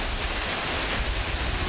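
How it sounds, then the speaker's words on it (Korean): A large waterfall in Georgia's Caucasus region roars as a dense, steady wash of white noise, constant and loud throughout the short stretch with no voices. "정말 요술 같은 폭포입니다."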